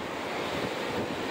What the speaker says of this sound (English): The waves are good, especially at the pier.